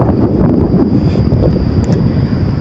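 Strong, cold wind buffets a microphone outdoors during a walk, producing a continuous loud rumbling roar with no speech.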